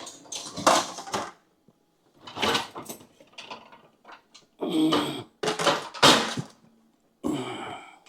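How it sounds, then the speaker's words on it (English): Dishes being put away in a home kitchen: several bursts of clattering plates, clinking and knocking, each a second or so long, separated by short quiet gaps and close by. "Put these dishes away as I go."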